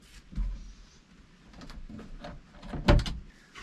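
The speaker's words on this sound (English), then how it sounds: "The cabinet handles here actually squeeze together to release it and allow that cabinet door to swing down." Cabinet door in a vintage Chevy truck bed camper, its squeeze-release handles letting it swing down: a soft clack early on, faint rattling, then a sharper knock of the door opening near the end, all close with no talk.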